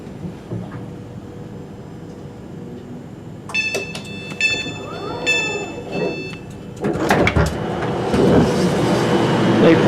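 A train pulls in at Crewe station: a low rumble builds, then a high steady tone and clattering rail noise rise, ending in a loud roar as the train draws close.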